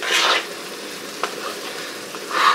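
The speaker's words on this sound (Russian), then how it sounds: "Ой, бульон кипит сильно." A pot of broth boils hard on a kitchen stove, giving a soft close bubbling hiss with brief swells at the start and end and no voices.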